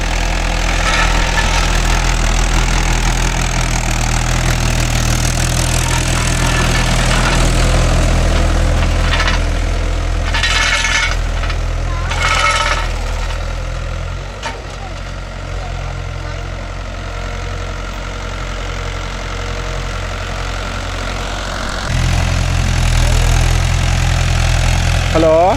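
A Mahindra 575 DI tractor engine runs steadily nearby in farmland, a loud low idling rumble with shaking, rattling knock throughout, briefly dipping mid-clip before swelling again, with no one talking.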